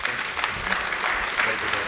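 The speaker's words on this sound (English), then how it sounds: "Big round of applause, please." Conference audience applause for a panel at a digital healthcare conclave: even, moderately loud crowd clapping filling the room, continuous and without talk.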